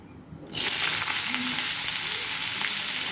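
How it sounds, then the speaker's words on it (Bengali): Vegetables tossed into hot oil with cumin seeds burst into a loud, steady sizzle after a quiet half-second, frying continuously close by for chowmein. "সবজিগুলো দেওয়া হয়ে গেছে, এবার সবজিগুলো দেওয়ার পর ভাজবো।"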